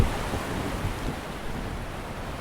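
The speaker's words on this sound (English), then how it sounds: "it's really blowing in now like a gale" Gale-force wind sweeps a coastline as the tide comes in, a steady, rough roar of gusts and surf that buffets the microphone, fairly loud and unbroken for a couple of seconds, with no voices.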